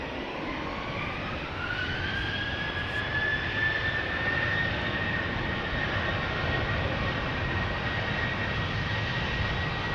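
A KLM jet airliner bound for Berlin takes off from Schiphol, its steady engine roar carrying a rising whine that climbs and levels off, sustained and moderately loud from nearby.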